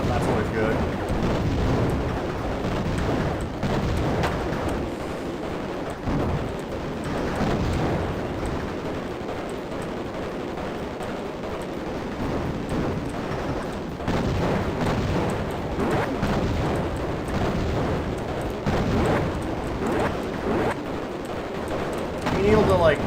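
Ground targets blow up in an MS-DOS video game, producing a continuous run of crunchy, low booms and blasts with people talking over them.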